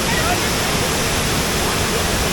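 Steady, dense rush of falling water from the Savatkada waterfall at Chunakolvan, Konkan, fills the clip evenly from start to finish, a loud broadband roar with no breaks.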